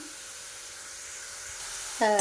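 Steady sizzling hiss of onions frying in hot oil, fairly close, with a voice starting to speak at the very end.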